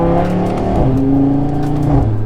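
A stage 2 tuned Audi RS3 engine revs loudly and close, its pitch rising and falling in quick surges with a throaty, rumbling tone.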